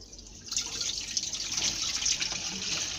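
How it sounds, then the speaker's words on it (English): Homemade tiger nut milk drips and trickles through a sieve, a steady close splashing patter of liquid that starts after a quiet half second and continues evenly, with no voices. "After sieving everything nicely, I'm going to sieve it the second time."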